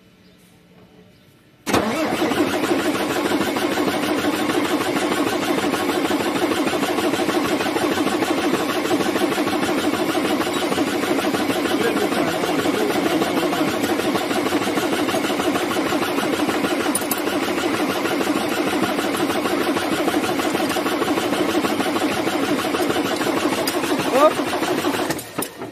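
A MAN TGA truck engine with a low-pressure fuel fault cranks continuously as the starter churns in a steady, rough, mid-pitched rumble that lasts over twenty seconds without catching.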